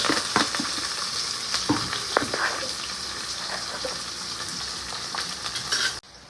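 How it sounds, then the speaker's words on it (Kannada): Onions fry in a pan for Ambur chicken biryani, a steady close sizzle broken by clinks and scrapes of a stirring spoon, cutting off abruptly near the end. "ಆನಿಯನ್ ಚೆನ್ನಾಗಿ ಫ್ರೈ ಆಗಿದೆ"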